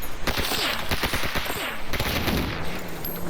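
Rapid bursts of automatic gunfire in the video game Stalker Anomaly, a dense run of sharp shots crowding the opening seconds, then thinner scattered reports over a steady background rumble.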